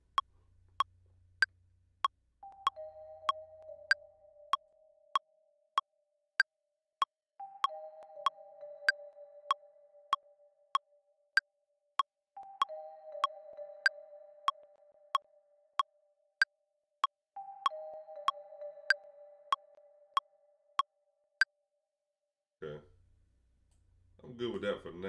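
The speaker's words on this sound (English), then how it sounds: "That's the marimba there. I want to add a reverb to that as well." Bright marimba notes from software in Ableton ring out in short repeated phrases with a soft reverb tail, evenly spaced, over a faint low hum and a brief voice at the end.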